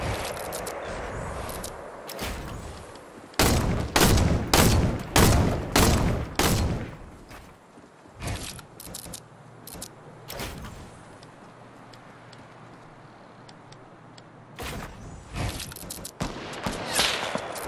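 Sniper fire from several directions cracks through a video game match, with a cluster of loud, sharp shots in quick succession, then scattered single reports among quieter ticking stretches.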